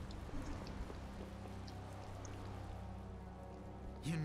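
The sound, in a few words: rain in video game Tales of Vesperia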